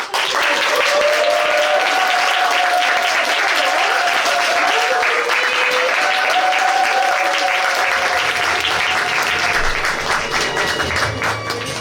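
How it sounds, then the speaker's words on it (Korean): A theatre audience at a book launch at Seongmisan village theatre claps warmly and steadily for about twelve seconds, a dense, even patter of many hands, loud and close, with faint voices underneath near the end. "여러분 조금 더 큰 박수"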